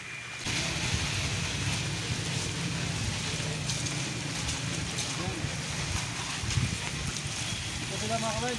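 Heavy rain pours down outdoors in a dense, continuous hiss over a farm harvest, with low rumbling background noise and faint voices underneath throughout.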